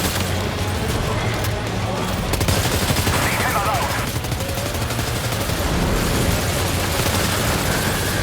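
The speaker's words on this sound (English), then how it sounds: "There's a grenade launcher on this thing?" Grenade launcher firing in the video game Death Stranding 2, dense, loud bursts of booming shots and rattling gunfire over a rumbling, chaotic battle bed, with a voice talking underneath.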